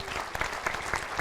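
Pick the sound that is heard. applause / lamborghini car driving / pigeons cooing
applause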